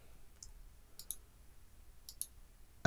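Computer mouse buttons clicked while selecting rooms in AutoCAD Architecture 2023, a few faint, sharp clicks in pairs against a quiet background.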